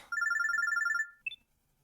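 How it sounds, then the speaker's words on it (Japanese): A phone droid in the video game Robotics;Notes Elite rings with a rapid electronic trilling burst lasting about a second, followed by a brief higher chirp, loud and clear with no talk over it. "it's just my phone droid getting a call"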